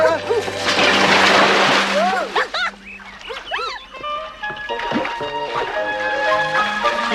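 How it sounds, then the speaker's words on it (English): A loud splash and sloshing water as someone falls into a brook, with excited voices and shouting over the splashing. "Achilles, he fell in the brook"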